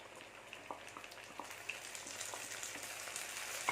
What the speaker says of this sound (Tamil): இந்த எண்ணெயிலே கொஞ்ச நேரம் இது வதங்கணும் அடி பிடிக்காமல் வதக்கிக்கோங்க